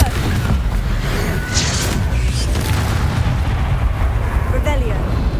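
A Confringo explosion spell goes off in the Hogwarts Legacy video game, a dense rumbling boom held over steady game noise, with a few brighter bursts and a voice briefly present.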